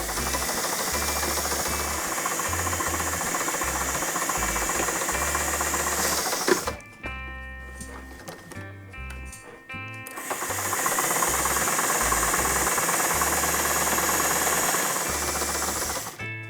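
Close and steady, a sewing machine whirs as it stitches a pinwheel quilt block, with a brief pause midway before the motor runs on again.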